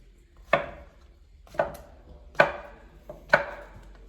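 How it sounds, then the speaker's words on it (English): A knife slices a portobello mushroom into thin strips on a cutting board, four crisp, evenly spaced chops about a second apart, close and clear with no talk. "we'll cut our portobello mushroom into strips. Pretty thin strips."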